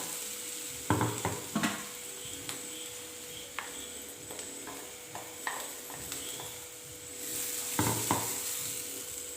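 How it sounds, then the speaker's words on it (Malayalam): Ground spice paste hits hot oil tempered with a dried red chili, giving a steady sizzle with sharp bursts of stirring and utensil scrapes against the pan, fairly close and without talk. "ഇനി അതിലേക്ക് റെഡിയാക്കി വെച്ചിരിക്കുന്ന അരപ്പ് ചേർത്ത് കൊടുക്കണം"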